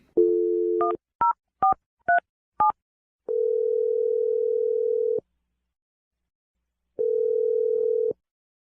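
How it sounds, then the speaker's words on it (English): A telephone number is dialed: a steady dial tone, then a quick run of five short DTMF key beeps, followed by two long ringback tones separated by silence, all clean and close. "I'm going to dial Melanie's number right now"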